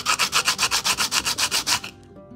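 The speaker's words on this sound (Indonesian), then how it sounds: "amplas lah biar dia rapi." Rapid rhythmic rubbing of sandpaper on a small diecast car body, about a dozen quick back-and-forth strokes, close up, then it stops.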